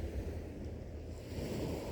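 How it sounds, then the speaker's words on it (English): Ocean waves crashing on a seashore, a steady low rumbling surf with wind noise, continuous and fairly faint, with no voices. "The waves are crashing, seagull, making that noise."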